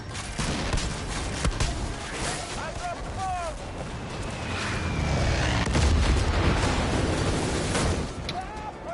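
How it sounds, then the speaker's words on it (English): Bombs dropped on ground enemies burst into a rolling barrage of explosions and crackling fire, building to a heavy low rumble midway, with a voice talking intermittently over the blasts. "I'm gonna drop a bomb on these guys."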